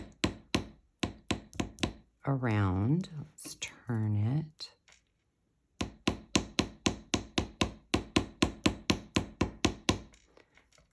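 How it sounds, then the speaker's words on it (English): A small hammer taps metal wire in quick, regular light strikes to harden it for earring hoops, pausing while someone talks quietly, then resuming the steady tapping. "So we're going to harden the wire using our little hammer"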